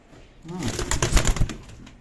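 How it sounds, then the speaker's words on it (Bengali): Imported-bloodline teddy pigeons that are moulting coo in a soft, rolling burst that swells in the middle and fades, heard close by. "দেখেন কবুতর মল্টিংয়ে চলে গেছে এই কবুতরগুলো হাই কোয়ালিটির কবুতর"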